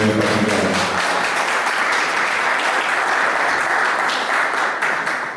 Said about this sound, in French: Madame Chantal Teta, est-ce qu'on peut applaudir pour elle?